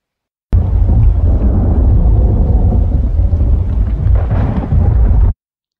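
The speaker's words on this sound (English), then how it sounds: "open world rain and thunder system for Unreal Engine 5" Rain and thunder effects from an Unreal Engine 5 open-world weather system: a loud, sustained deep rumble of thunder over heavy rain that starts abruptly and cuts off cleanly after about five seconds.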